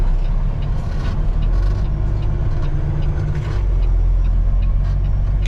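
A semi truck's engine drones with a deep, steady rumble while driving, with a low throb that swells slightly partway through, and no voices.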